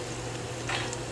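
Sweet potato (kamote) sizzling in hot frying oil, a steady crackling hiss heard close up with a slight swell near the end, no talking.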